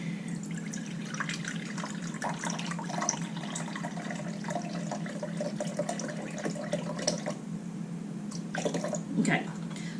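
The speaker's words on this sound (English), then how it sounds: "now I'm going to put a cup of broth in" A cup of broth is poured into a slow cooker, giving a soft splashing trickle with light drips that runs through the whole stretch, while a voice talks quietly beneath the liquid sounds.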